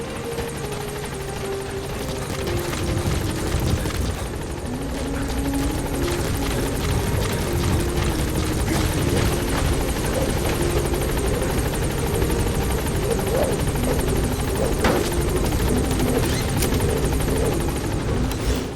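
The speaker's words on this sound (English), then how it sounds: "Support helicopter has arrived." Support helicopter arriving at a landing zone in Metal Gear Solid V: The Phantom Pain, a loud steady rotor thrum with a whining engine tone that holds throughout, close and continuous.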